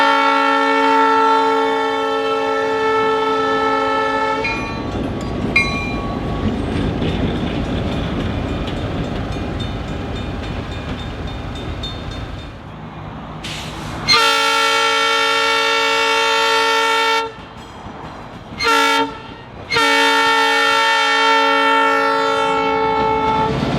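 Southern Railway locomotive 5000 runs along Holtzclaw Avenue in East Chattanooga, sounding long loud multi-tone horn blasts between stretches of engine rumble, the horn returning in several bursts.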